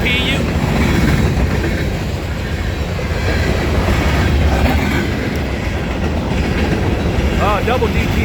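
An extra-long grain freight train in Guthrie, Kentucky, with two DPU locomotives in the middle, rolls past close by. It makes a loud, continuous rumble with rail clatter that holds steady throughout.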